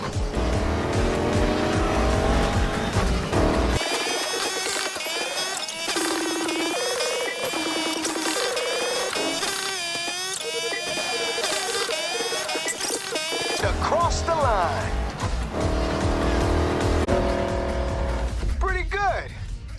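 Race cars in the Need for Speed video game roar loudly with revving engines and repeated tire squeals, over backing music, with voices talking over the action.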